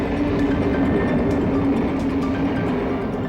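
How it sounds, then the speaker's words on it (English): A BLS train pulls out of Spiez station in the Swiss Alps, heading for the mile-long Hondrik Tunnel, giving a steady, close rolling rumble with a faint hum and no voices throughout. "Our BLS train departs the Spitz station for the mile-long Hondrik Tunnel."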